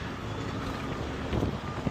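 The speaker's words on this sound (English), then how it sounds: "Now it's beautiful blue sky," Steady wind blows across an open outdoor scrap-hauling site on a clear, breezy day after morning rain, a constant rushing buffet against the microphone with a brief stronger gust near the end.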